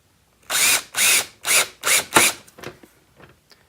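A power drill drives a screw into the top tunnel piece of a Patio Pacific Endura Flap wall-mount pet door, five loud, close bursts of whirring followed by a few short, fading buzzes as the screw seats.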